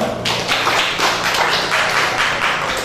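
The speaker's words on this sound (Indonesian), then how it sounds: "tepuk tangan untuk Bapak Akbar" A crowd at a community police partnership forum in Klayan village, Cirebon, claps steadily in dense, even applause that fills the whole stretch without pause.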